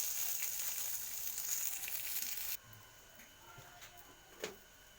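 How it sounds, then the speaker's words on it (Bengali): Slit green chilies frying in a pan, a bright, loud sizzle that suddenly drops to a quieter crackle halfway through, with a soft knock near the end and no talking. "তো আমি এভাবে কিছুক্ষণ ভেজে নেব"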